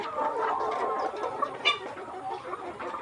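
Layer hens on a farm cluck and murmur softly in a group, a continuous low chatter of poultry nearby with a slightly louder cluck partway through.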